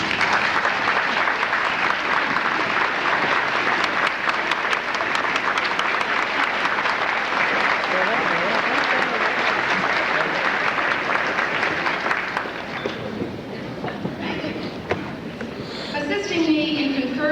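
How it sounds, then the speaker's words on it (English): At a graduation ceremony, families of the graduates stand while the audience applauds them with sustained, dense clapping for about twelve seconds before it tapers off and a voice begins speaking. "Now we want you to stand so we can applaud you."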